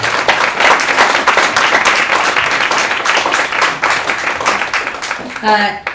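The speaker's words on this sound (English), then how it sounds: "So we'll send them off with another round of applause." A crowd claps loudly and continuously for several seconds, and a voice begins speaking as the applause fades.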